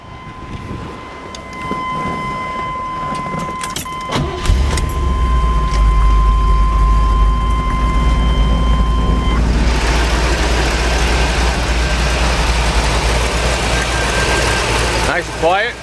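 A 1979 Chevrolet Corvette engine cranks and fires after a few seconds, then settles into a loud, steady idle rumble that runs to the end, heard close with a thin electronic tone before the start.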